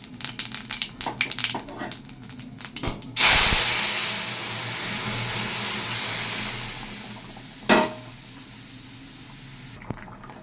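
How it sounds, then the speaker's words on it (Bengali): Cumin, dried chilli and bay leaf drop into hot oil to temper dal, setting off a sudden loud sizzle that fades over a few seconds, followed by a second short burst, close by. "ডালটাকে ফোড়ন দেওয়ার জন্য দুটো গোটা জিরে,"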